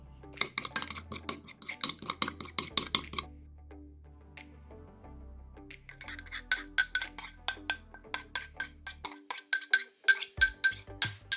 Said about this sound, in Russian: Смешиваем до растворения сахара.